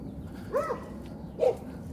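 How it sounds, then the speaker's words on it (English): Two soft, low cooing calls from a bird, likely a pigeon, sound about a second apart outdoors on a city street, moderately close above a steady background hum. "Might actually be a bird up there."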